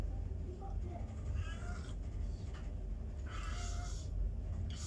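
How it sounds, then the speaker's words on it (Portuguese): A female cat meowing outdoors at a house, a few short mews over steady low background noise, moderately near. "A gatinha está aqui fora"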